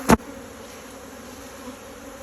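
Honey bees in an open hive give a steady low buzzing drone throughout, with a brief louder burst at the very start and no voices.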